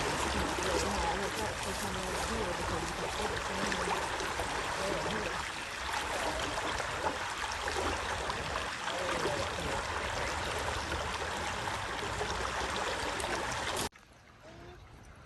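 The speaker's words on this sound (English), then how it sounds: "Here's the front side of that last little waterfall I was showing you coming over that log." A rain-swollen creek pours over a log in a small waterfall, a steady full rushing of water close by that runs without pause before cutting off abruptly near the end.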